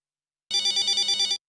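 A telephone ringing in an indoor home setting, a single short burst of rapid electronic trill lasting about a second, loud and close with no voices.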